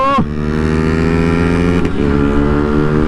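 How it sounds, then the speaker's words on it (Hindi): A 2026 KTM Duke 200 motorcycle accelerates hard in a drag race, its engine note climbing in a strong, close, continuous rev with a brief shift-like break partway through. "क्या ही फाड़ भाग रही है ड्यूक"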